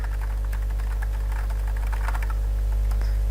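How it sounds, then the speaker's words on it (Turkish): Quick, clicky keystrokes patter on a new computer keyboard up close during a Minecraft session, over a steady low electrical hum, with no talking. "yeni klavyeyi taktım"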